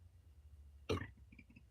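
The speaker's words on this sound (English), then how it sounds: "I just burped." A single short burp from a person sitting indoors, one brief throaty burst standing out over a quiet low room hum, followed by faint small sounds.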